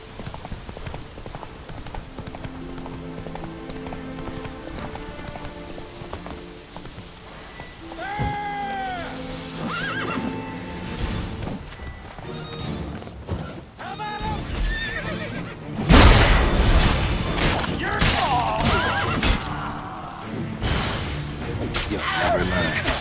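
Roach, the horse from The Witcher 3, gallops with steady close clip-clop hoofbeats and whinnies partway through, then a louder burst of hoof and wind noise toward the end, with game music and ambience underneath.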